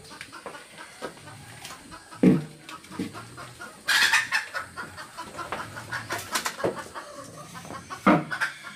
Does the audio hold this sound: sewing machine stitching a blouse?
no